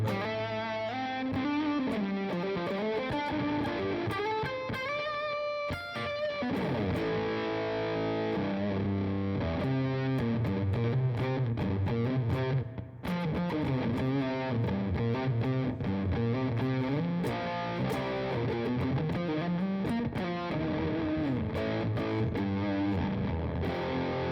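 A heavily distorted, fuzzy electric guitar plays sustained chords and riffs continuously, thick and saturated, with no voices.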